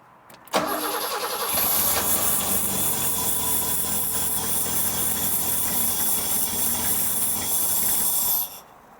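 A one-owner barn-find survivor car with 15,000 miles catches on sprayed starting fluid and petrol, roaring loudly and running steadily for about eight seconds before cutting out abruptly.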